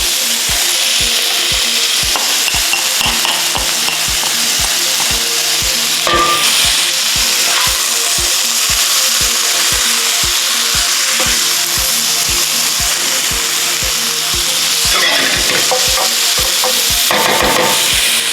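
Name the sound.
green beans stir-frying in a pan for vegetable lumpia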